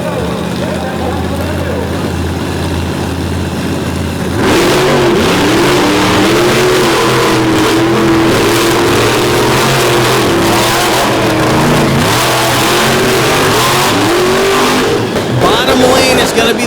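A monster truck roars to life on a muddy arena track, its engine revving hard in long rising and falling surges, loud and close, after a quieter opening with crowd and announcer talk underneath.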